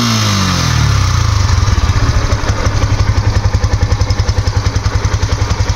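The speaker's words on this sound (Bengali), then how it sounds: "তো বাইকটা এখন আমি আপনাদেরকে স্টার্ট করে সাউন্ড কন্ডিশন দেখাবো" Yamaha FZS version 3 motorcycle, a 2022 model, starts up and settles into a loud, close idle, a quick cranking rise giving way to a steady, rapid thumping exhaust beat that continues alone.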